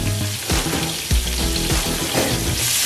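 Onion frying in red-tinted oil in a pan, a loud continuous sizzle with crackling bursts and occasional stirring clatter, close up and with no talk.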